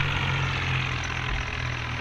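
Tractor engine idling in a Hindi-commentary farming video game: a steady, low mechanical hum with a faint tonal drone, running evenly and unbroken throughout at close range, with no voices.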